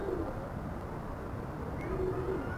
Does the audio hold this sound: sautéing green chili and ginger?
no